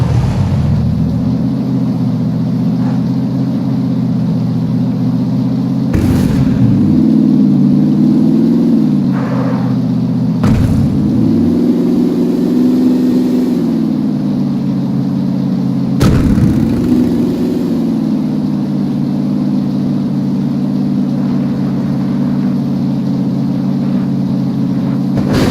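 A Dacia car drives through rain in the video game PUBG, its engine a steady loud drone that shifts pitch several times, with brief thumps breaking the hum over about twenty-five seconds.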